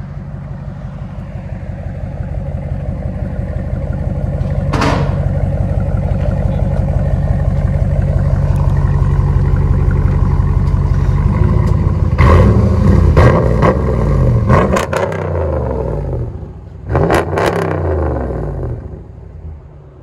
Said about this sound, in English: Dodge Ram 1500, muffler delete.